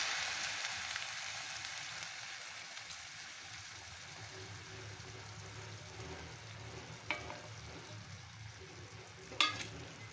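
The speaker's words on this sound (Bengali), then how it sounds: "এই কাপেরই দু কাপ জল দিয়ে দিচ্ছি" Water has been poured into a pan of fried rice being cooked as Kanika bhog, and it sizzles in a steady, soft hiss throughout, with a couple of brief utensil clinks near the end.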